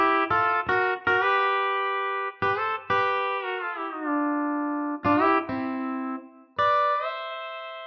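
Pedal steel virtual instrument plays a melody with a harmony voice, sustained twangy plucked notes sliding and gliding between pitches in phrases with short gaps, clean and alone.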